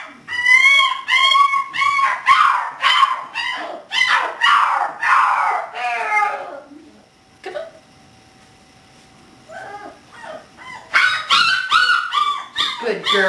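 A six-week-old puppy yelps and whines in rapid, loud bursts close by, pauses into near quiet with a faint tone, then resumes with a fresh run of high yips and whimpers.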